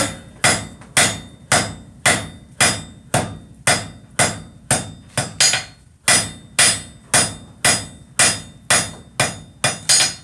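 Hot steel is hammered on an anvil to draw out a taper at a forge. About seventeen loud, close, ringing blows land in a steady rhythm, with one brief pause partway through and no talking.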